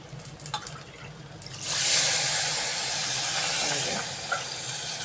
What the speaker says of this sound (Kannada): ಈಗ ನಾನು ಇದಕ್ಕೆ ಆರು ಲೋಟ ನೀರನ್ನು ಸೇರಿಸ್ಕೊತಾ ಇದ್ದೀನಿ